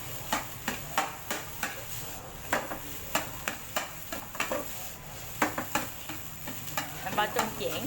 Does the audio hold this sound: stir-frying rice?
yes